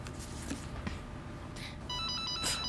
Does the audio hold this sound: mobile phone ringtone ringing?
yes